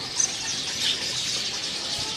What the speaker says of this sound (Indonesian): Hari ini ready juga untuk burung Yohina Kalimantan ya pemirsa.